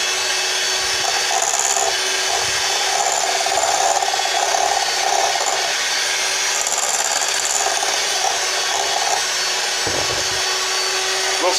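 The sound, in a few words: creaming cookie dough ingredients together in a bowl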